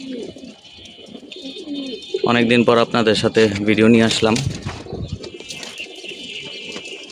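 Pigeons coo in a loft with a steady, close murmur, while someone talks over them in the middle stretch.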